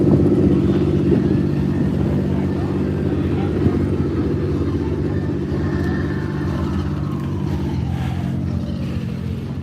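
A Mustang LX fitted with a D1 ProCharger supercharger runs at a car meet, its steady loud engine drone continuing throughout with a faint rising whine.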